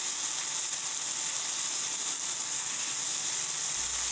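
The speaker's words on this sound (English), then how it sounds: "Some noises are pleasant, and case in point, this sausage frying. Now listen to it." Sausage frying in a pan gives off a constant, close crackling sizzle, a steady hiss that holds without pause.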